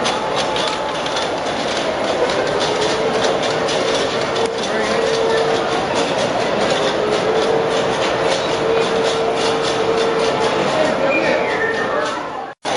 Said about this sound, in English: these are one of our sets of hand cars